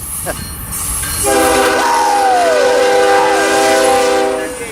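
Freight train 7599 passing at Monolith in the Tehachapi mountains, its loud multi-tone horn blaring for several seconds over the rumble of the cars, with squealing wheels sliding in pitch, close by.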